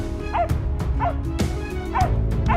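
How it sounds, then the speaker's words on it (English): Hunting hounds bark furiously in the field, several sharp, close barks and yips arriving in quick succession with excited whining between them. "the sudden, furious barking of our hounds jolted our senses"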